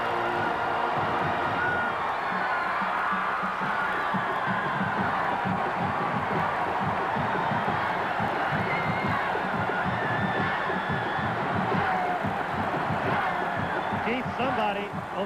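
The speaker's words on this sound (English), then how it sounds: "Listen to the crowd." Crowd at a 1985 Alabama at Georgia college football game roars in a steady, dense wall of cheering and shouting, with a commentator's voice talking over it.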